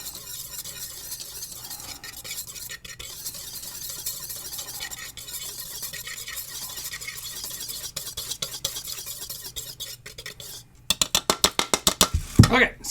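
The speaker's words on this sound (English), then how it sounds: "Whisk this stuff together." Cookie dough ingredients are whisked together in a bowl. Quiet handling noises give way near the end to a quick burst of rhythmic, close whisk strokes.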